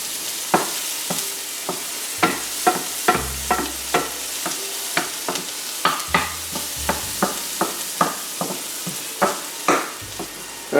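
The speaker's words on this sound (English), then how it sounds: "chopped up garlic and chopped up onions. And saute them for" Chopped garlic and onions sauteing in a pan, with a steady sizzle broken by repeated sharp scraping strokes of a utensil stirring at an irregular pace, close and clear with no talking.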